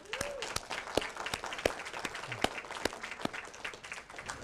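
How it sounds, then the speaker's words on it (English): Audience applause fills the room, a steady wash of many hands clapping with sharp individual claps standing out, moderately loud and sustained without a break. "Give them a round of applause, would you?"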